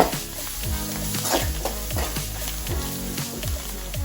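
Steady, loud sizzling from a hot pan as coriander is stirred in while cooking Andhra-style jeera rice, with repeated scraping strokes of a spoon in a regular rhythm throughout.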